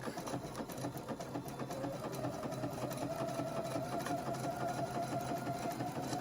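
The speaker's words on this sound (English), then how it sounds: "And I sewed a line up to the top" A sewing machine stitches embroidery on a cottage tea towel, running as a close, steady, fast mechanical whir with rapid needle ticking for the whole stretch, and no voices over it.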